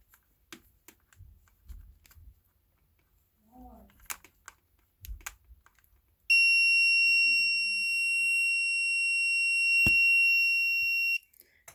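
An Innova multimeter set to continuity gives a loud, steady high-pitched buzz lasting about five seconds, after quiet handling and clicking sounds.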